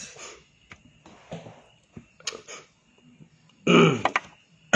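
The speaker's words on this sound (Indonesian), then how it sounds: "Batuk-batuk dulu ya." Several short coughs and throat-clearing sounds come in scattered bursts, ending with a louder, rougher cough close to the mic.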